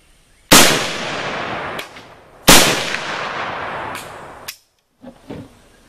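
Gunshots fired at shooting targets: two loud, sharp cracks a couple of seconds apart, each with a long ringing decay and a fainter follow-up report, then small clicks.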